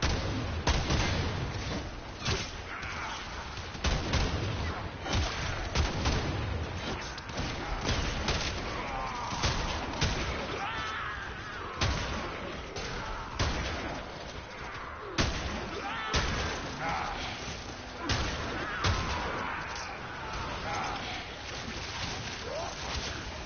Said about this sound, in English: this is the gun blade. Like, you can shoot shotguns from it